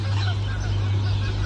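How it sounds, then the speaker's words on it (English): Canada geese honk faintly in the distance beside a channel next to Lake Rotorua, brief calls sitting under a steady low hum and ambient noise. "You can also hear a couple of Canada geese in the background."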